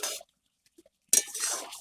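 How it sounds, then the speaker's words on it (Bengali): A lid comes off a pot of home-cooked potato and spinach curry: a short clatter at first, a silent pause, then a loud burst of clinking and hissing sizzle close by, with no talk. "এবার আমি ঢাকনাটা খুলে নেব।"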